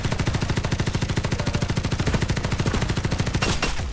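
Fast automatic gunfire in Farlight 84 is shot through a window. Rapid, evenly spaced rounds rattle loud and close in one unbroken burst lasting several seconds.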